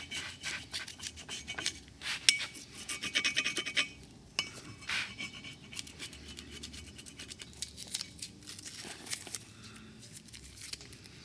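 Masking tape peeled away from a scribed Land Cruiser 80 Series axle knuckle, giving a run of close, scratchy rasping and tearing bursts, strongest in the opening seconds and then trailing into lighter intermittent rubbing.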